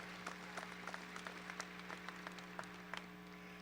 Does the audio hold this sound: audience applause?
yes